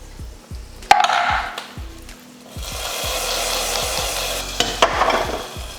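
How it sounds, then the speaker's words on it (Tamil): Ghee-fried cashews, raisins, almonds and pistachios tipped into hot payasam for a birthday meal give a close, steady sizzle and bubbling hiss, with a few sharp clinks and scrapes of a spoon stirring through. "முந்திரி திராட்சை பாதாம் பிஸ்தாலாம் நல்லா நெய்யில் வறுத்தாச்சு. இப்போ பாயசத்தில் ஊற்றிடலாம்."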